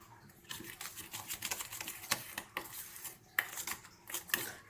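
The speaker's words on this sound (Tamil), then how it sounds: "இதை இப்போ நல்லா நமக்கு மிக்ஸ் பண்ணி எடுக்கலாம்" Butter cream with vanilla essence and a pinch of salt is mixed in a bowl, a quiet, quick run of close scraping and clinking from a utensil against the bowl, steady and rhythmic, with no talk.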